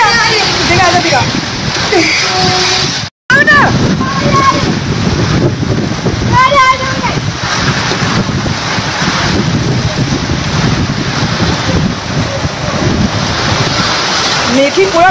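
Heavy rain pours onto a flat rooftop in a steady, dense roar with splashing, continuous and loud throughout, while people talk over it.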